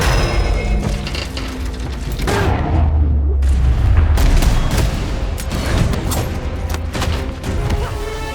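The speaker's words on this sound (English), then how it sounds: "Natasha drew her gun and opened fire." Gunshots from a handgun fired by Natasha in a fight with the mercenary Taskmaster, heard as loud bursts amid booms, crashes and dense action effects, with no clear talk over them.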